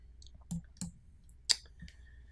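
Several sharp computer mouse clicks on a website link come in a loose, irregular series of short taps, close and fairly quiet, with no talking.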